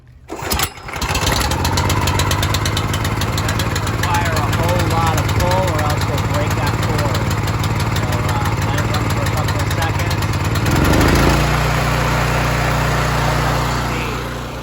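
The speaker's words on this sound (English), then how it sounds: "just give her a nice little pull. Cold start this morning." A small Xjet pump engine catches after a single pull on a cold start, then runs loud and steady close by with a buzzing, rattling drone, its pitch shifting slightly near the end.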